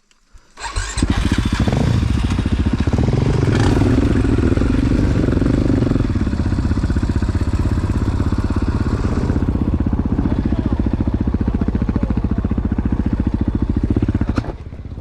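A motorcycle engine roars loudly and close, rising as it starts and accelerating, then holding a steady rough drone for the whole stretch before dropping away at the end.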